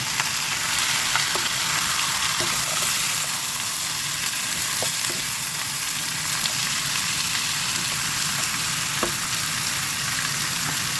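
Chicken frying in a pan for adobo gives a loud, continuous bright sizzle with occasional faint stirring taps, close up and with no talking.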